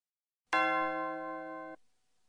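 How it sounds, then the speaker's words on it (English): A sampled bell loaded into a Korg synthesizer sounds a single bright, close strike with a ringing tone that holds for just over a second and then cuts off abruptly. "This is a bell sound."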